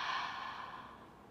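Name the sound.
Ujjayi yoga breathing, inhaling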